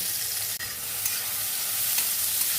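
Continuous hissing and sizzling of bitter gourd frying in oil with green chillies, with a faint scrape of stirring now and then.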